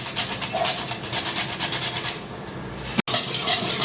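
A little nutmeg is grated over white sauce for pasta, a close, rhythmic rasping scrape repeated in quick strokes, briefly stopping before resuming.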